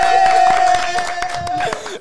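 A crowd at a gala claps and cheers in a short burst, scattered sharp claps under a sustained voice and shouting.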